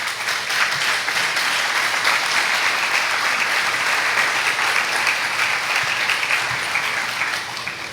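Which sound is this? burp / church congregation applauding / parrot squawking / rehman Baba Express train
church congregation applauding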